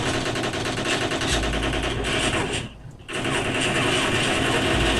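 Dense automatic gunfire from a shooting game played on a budget Motorola Moto G phone, loud and continuous with a short break near the middle, under a busy game soundtrack.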